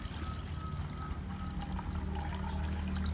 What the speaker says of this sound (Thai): ผมจะเทใส่ที่ตรงนี้นะครับ